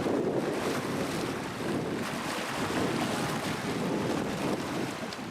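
Wind and waves at a wharf and beach by a river, a steady broad roar of wind buffeting the microphone over continuous washing surf, fairly loud and unbroken throughout.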